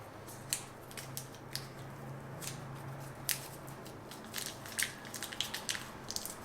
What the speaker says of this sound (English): we're going to cut another little piece off